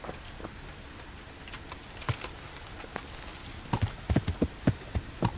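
Horse hooves in the video game Kingdom Come: Deliverance clip-clop in a quickening series of sharp knocks, sparse at first then bunching into a rapid trot near the end, over a faint background hum.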